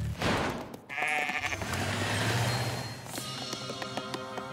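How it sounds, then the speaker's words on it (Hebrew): Sheep bleat inside a cafe in an animated children's cartoon, several loud, close bleats layered over busy background noise and music, with no one speaking over them. "כבשים בקפה שלי? מה קורה פה?"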